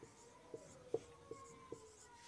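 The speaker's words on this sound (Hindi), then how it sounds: "लिख लेंगे हॉकी" Marker or chalk strokes on a board during a Hindi-language English grammar lesson, a series of short, regular taps and scratches spaced about every half second, faint and close, with no talking over them.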